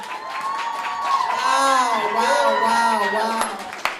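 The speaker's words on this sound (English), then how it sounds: "Ladies and gentlemen, y'all give a round of applause for your creator, Miss Candace QueenLyfe Strother." Launch party crowd cheering and whooping loudly for the creator, a sustained roar of voices with rising shouts and some clapping beneath, close and continuous.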